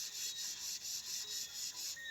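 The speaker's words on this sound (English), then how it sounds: "Rub the cut edges with sandpaper." Sandpaper scrubs along the cut edges of a denim jean jacket in quick, steady back-and-forth strokes, about four per second. The rasping is close and soft, with no voices.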